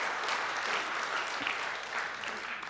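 A congregation gives applause during a Norwegian gathering, a fairly faint, steady wash of clapping that holds evenly for a few seconds.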